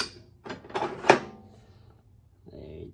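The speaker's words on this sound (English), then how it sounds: "Throw that in the half inch drive drawer." A tool drawer in a workshop storage cabinet, the half-inch drive drawer, slides and clunks: a few close clattering knocks with the sharpest bang near the middle, then a faint rustle and quiet handling noise.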